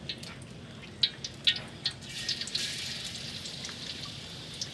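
Rain falling during outdoor cooking of braised pork, with scattered drops pattering and dripping on surfaces over a steady soft background wash, fairly quiet and without talk.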